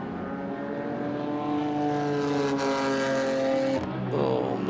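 A race car engine at the 24H Portimao 2022 endurance race, a steady droning note holding and slowly shifting pitch as the car runs near turn 5, then a sudden change near the end as the sound drops and rises.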